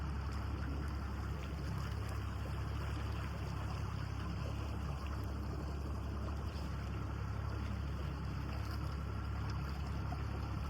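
A low, steady engine rumble drones continuously from a boat motor idling on a shallow river, with faint water sounds and no talking.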